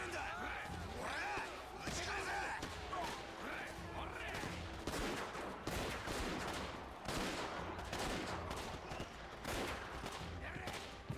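Gunfire in the video game Yakuza 0, bursts of rapid shots and sharp impacts repeating through a brawl, mixed with thuds and a speaking voice, fairly quiet overall.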